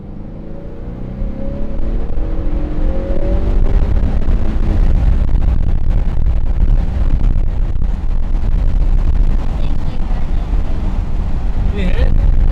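A 2021 Honda Accord 2.0T fitted with a PRL high volume intake accelerates hard, its engine note climbing at first and then settling into a loud, sustained roar heard from close by.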